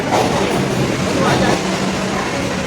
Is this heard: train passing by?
yes